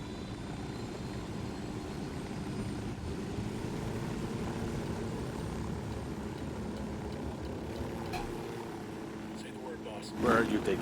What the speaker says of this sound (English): we're going to boost ourselves a helicopter